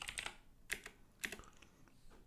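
Quiet, close clicks of typing on a computer keyboard, a few quick keystrokes in short bursts separated by brief pauses, with no talking.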